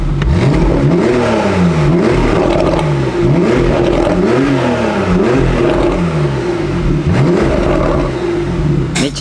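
A Porsche 991.2 Carrera 4 GTS Cabriolet engine revs hard in repeated rising and falling sweeps, loud and close, with crackling pops and bangs between the blips.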